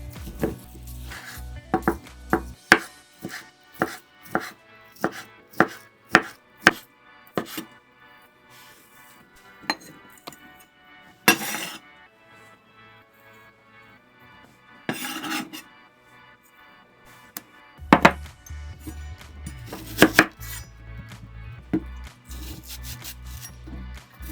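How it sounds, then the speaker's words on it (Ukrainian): A knife chops sausage into small cubes steadily on a cutting board in quick repeated knocks, pausing several times, with occasional louder clatters and scraping between runs. "Ковбасу нарізаю дрібними кубиками."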